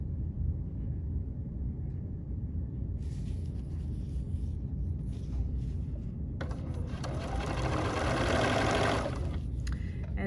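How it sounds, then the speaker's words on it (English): A home sewing machine stitches binding onto the front edge of a quilt, its steady motor hum running continuously and swelling louder in a fuller burst toward the end, with no talking. "I'm sewing it to the front of the quilt"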